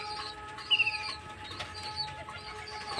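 Pigeons kept in a home loft flap their wings in a brief burst of quick flutters, with faint cooing and soft chirps underneath, all fairly quiet against a steady low background hum.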